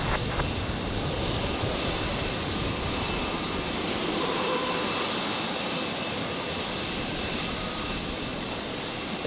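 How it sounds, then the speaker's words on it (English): Embraer E-Jet airliner departing Brisbane Airport, heard as a steady, broad distant jet roar with a wind-like wash, continuous and fairly faint throughout without speech. "here's the EJet departing"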